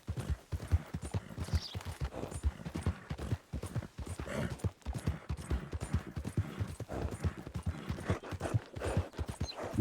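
Steady clip-clop of video game horse hooves trotting at a brisk, even rhythm, close and fairly loud, with faint background ambience.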